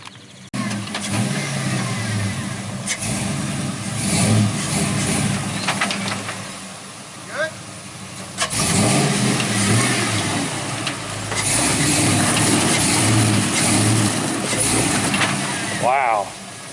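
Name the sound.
square body truck engine revving while rock crawling off road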